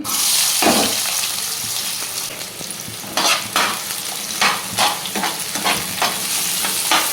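Two onions dropped into hot oil in a pan for a tamarind-leaf egg fry, a loud sizzle at first, then repeated scraping stirs over continuous frying.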